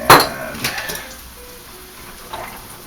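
Dry pasta goes into a pot of boiling water with a sharp clink and clatter against the metal at the start, then a few softer knocks and a quieter bubbling tail.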